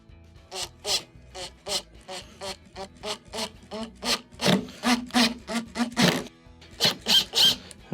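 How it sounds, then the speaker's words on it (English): A screw is driven into a Whirlpool WRT316SFDM01 refrigerator door to cut a hole, heard as a series of short rhythmic grinding, rasping strokes with brief squeaks, close and fairly loud. "You will need to reinstall the screw first in that spot to make a screw hole."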